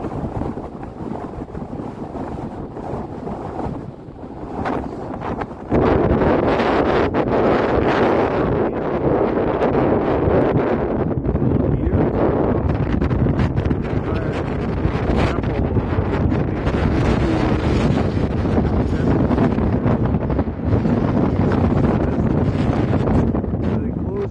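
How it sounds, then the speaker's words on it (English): Hard wind buffets the microphone on an Appalachian Trail mountain path near a summit. A milder rumble opens the stretch, then from about six seconds a loud, continuous roar of gusts swamps everything. "Sorry about the buffeting, but that's the wind."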